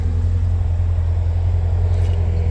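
A 2006 Chevrolet Corvette C6 Z06 idles after a hot start, giving a steady deep rumble with a fast low pulse, close and loud, holding an even level with no revving.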